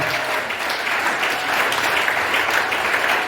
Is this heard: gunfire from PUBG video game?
no